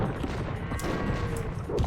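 Hand cannoneers and bomber cannons firing in an Age of Empires match, heard as a continuous rumbling fusillade of overlapping shots and booms, moderately loud throughout.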